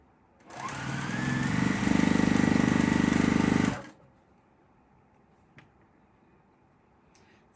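A sewing machine runs steadily for about three seconds, stitching a quilt seam with blunt ends pressed flat, loud and close, then stops, leaving a quiet room with a faint tap.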